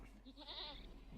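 A goat bleats once in the Rimworld video game, a short, faint, wavering cry standing alone against quiet background noise.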